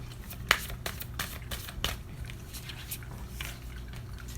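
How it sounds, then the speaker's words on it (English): Handfuls of tarot-style cards tossed and scattered, a quick series of soft papery flicks and slaps, close and fairly quiet, over a low background hum. "Just throwing handfuls of cards around."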